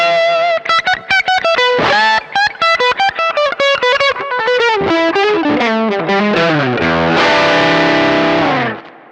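Distorted electric guitar on the bridge pickup with the volume and gain turned up plays a quick run of loud, choppy riffs, then settles into a sustained ringing chord near the end, with no voices.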